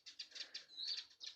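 House sparrows in a hilly rural setting flutter their wings in quick repeated bursts and chirp thinly, faint and close in a quiet space, with no voices.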